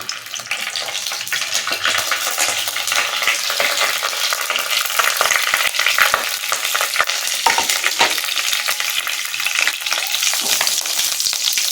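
Whole tempering spices and a bay leaf hit hot oil for a taro-leaf dish with sesame paste, a loud, dense crackling sizzle right up close that continues throughout, with scattered pops and stirring clicks and no voices.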